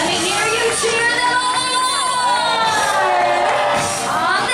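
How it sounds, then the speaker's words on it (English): An audience in a stadium at the SeaWorld San Diego Pets Rule show cheers and shouts loudly and continuously, children's whoops rising above the roar of the crowd. "Let me hear you cheer them"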